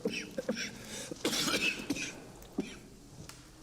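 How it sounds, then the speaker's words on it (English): A woman coughs several times in harsh, irregular bursts, close and fairly loud, with brief quiet gaps between the fits. "The way you cough."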